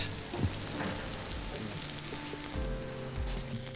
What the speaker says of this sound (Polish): I smażymy na złoty kolor z obydwu stron.